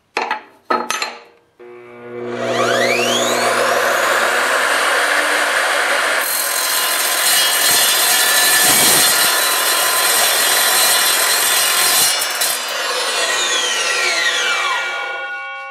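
A Ryobi R255SMS 10-inch TCT sliding miter saw cuts through a quarter-inch-thick piece of metal, a loud sustained grinding whine after a brief motor start, with bright metallic screech layered over the steady cut.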